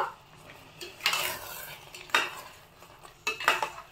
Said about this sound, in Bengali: খুন্তি দিয়ে নেড়ে চেড়ে কিশমিশ ও চীনা বাদামটা একটু মিশিয়ে নিব